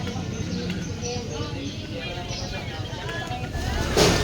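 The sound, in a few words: motorboat engine on a river trip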